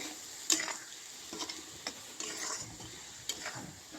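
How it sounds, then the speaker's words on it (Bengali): Chalta (elephant apple) pickle being stirred together with jaggery in a pan, giving soft scraping spoon strokes with a few sharper clinks, moderately quiet and without speech. "এবারে এটাকে আমি ভালো করে মিশিয়ে নেব"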